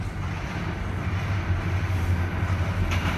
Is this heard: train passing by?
yes